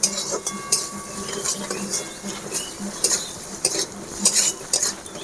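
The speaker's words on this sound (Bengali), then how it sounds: "মশলাটা আমি ভালো করে ভেজে নেব।" Spice mix with chili powder stir-fried in a pan for masala paratha, a spoon scraping and clinking against the metal in irregular strokes over a faint sizzle, close by with no talking.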